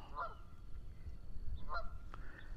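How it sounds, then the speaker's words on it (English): Two bursts of Canada goose honking, about a second and a half apart, over a steady low rumble of wind with no talking. "Canada geese swimming along, just kind of calm and peaceful, isn't it?"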